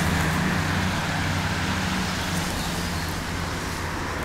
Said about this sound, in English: You might not be able to hear me because there's a lot of cars